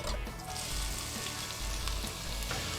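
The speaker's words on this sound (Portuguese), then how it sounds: "A gente vai dourar essa cebola" Onion browning in olive oil gives a steady, close, dense sizzle that holds at an even level for a few seconds, with faint stirring underneath and no voices.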